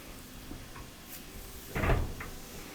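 A Samsung electric dryer's front panel is seated on its bottom clips and pushed shut, giving one solid plastic-and-metal clunk near the end, close by and alone over a quiet room.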